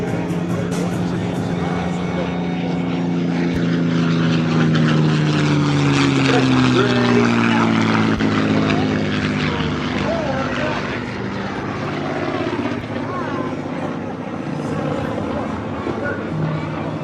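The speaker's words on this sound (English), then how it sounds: "Now watch from either side as the closure rate for these two aircraft tops 550 miles per hour." A 1945 F4U Corsair and a P-51D Mustang propeller warbird roar past at an air show, a loud sustained engine drone with a sliding Doppler pitch as they close and pass, under a public-address voice.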